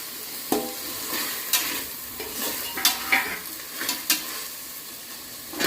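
Three cut tomatoes tossed into a pan with mint for a mushroom biryani made in a cooker, giving a bright sizzle with sharp clattering spatula stirs every second or so, close and unaccompanied by voices.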